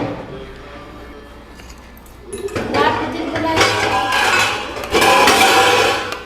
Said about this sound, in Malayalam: ഒരു പാൻ എടുക്കണ ബഹളാണ് അവിടെ കേൾക്കണത്